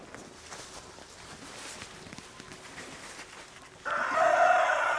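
Quiet outdoor ambience with faint movement among chickens during a hazelnut harvest, then a rooster crows loudly near the end, no talking.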